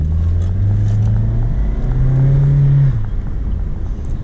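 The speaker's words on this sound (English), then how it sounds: "we can give it some throttle here and then we'll quickly get off of it" A used car accelerates hard under throttle, its engine note climbing loudly and steadily before a gear shift near the end drops the revs into a lower rumble.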